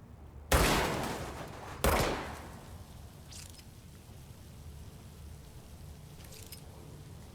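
Two sharp gunshots about a second apart, each with a fading echo, ring out while shooting out lights in the video game Control, then quiet room ambience settles in.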